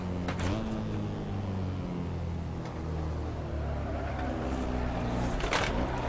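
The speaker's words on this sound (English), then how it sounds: "That's what the engines sound like." Racing car engines in the driving simulator Assetto Corsa drone steadily with a low, layered hum, rising slightly toward the end with brief higher bursts, close and continuous with no talk.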